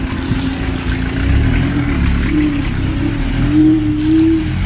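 A 60-volt Syccyba Mangust electric scooter rides along with a steady motor whine that rises and falls slightly, over continuous wind and road rumble, close and fairly loud with no talking.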